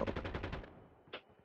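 Rapid automatic gunfire from the mobile shooter game Call of Duty Mobile, a fast burst of about six or seven shots in the first half, then a lull and one more short shot near the end.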